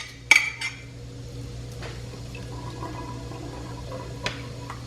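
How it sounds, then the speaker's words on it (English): Canned tuna, four cans with some of its water, is tipped into a casserole dish. A sharp clink of metal on dish comes first, then soft wet plops and scraping over a low steady hum. "I'm going to add my tuna."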